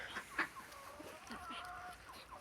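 Chickens and roosters cluck and call close by, short overlapping squawks and a few drawn-out crowing notes from a farmyard flock, with no talk.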